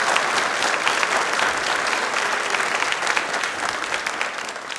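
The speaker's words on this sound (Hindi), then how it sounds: "एक बार तालियां प्लीज साक्षी के लिए जोरदार हो जाए।" Sustained, loud audience applause fills the whole stretch at a televised quiz programme, steady dense clapping with no voices rising above it.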